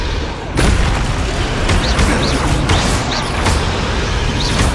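Repeated Bombarda spell blasts boom during combat in Hogwarts Legacy, several sharp explosive bursts a second or so apart over dense battle clatter and magical whooshes.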